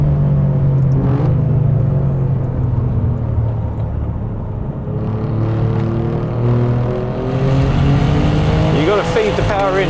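An Alfa Romeo Giulia Quadrifoglio runs on a race circuit. The engine is loud and close, with a sustained rumble that climbs steadily in pitch through the revs and ends in a rising howl near the end.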